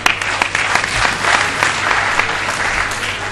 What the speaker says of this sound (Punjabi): ਖੁੱਲ ਕੇ ਤਾਲੀਆਂ ਮਾਰੋ